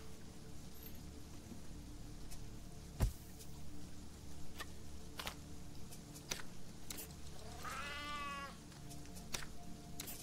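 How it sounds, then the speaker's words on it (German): A cat in the Sheltered video game gives a single drawn-out meow near the end, set against a quiet steady background hum with a few scattered clicks and one sharp knock earlier. "Die Katze hat auch Hunger, ne?"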